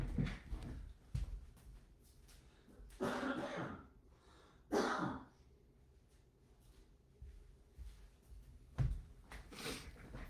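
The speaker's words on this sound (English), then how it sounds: "I'm going to step away from the camera for a second and cough." Several coughs and throat clearings come in bursts with quiet pauses between them, close to the microphone.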